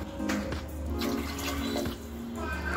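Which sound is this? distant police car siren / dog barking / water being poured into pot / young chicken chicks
water being poured into pot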